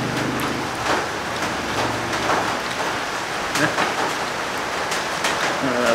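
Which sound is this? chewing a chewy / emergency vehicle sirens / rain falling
rain falling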